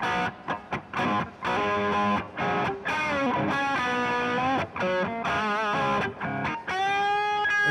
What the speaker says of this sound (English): Now we go to the distortion channel.